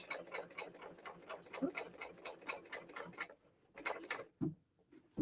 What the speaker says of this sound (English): Now I got that pearls positioned, the fabric's positioned, and I can serge right along the edge.